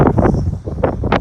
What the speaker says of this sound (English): Good steady wind